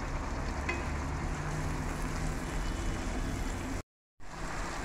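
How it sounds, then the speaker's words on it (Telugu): Mint, coriander and yogurt fry in a pot for chicken gizzard and liver biryani, a dense steady sizzle with a faint stir sound, cut by a short gap near the end. "బాగా మింట్ పెరుగు అన్నీ బాగా ఫ్రై అయినాయి కదా"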